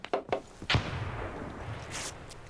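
Gunfire in the tactical shooter America's Army during a competitive assault match: a few sharp shots up front, then a heavier blast with a decaying rumbling tail and a couple of later cracks, moderately loud with no talk.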